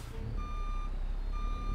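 A Peterbilt 379 truck in American Truck Simulator backs up with a steady tonal reversing beep that repeats twice over a low, loud diesel rumble. No one speaks.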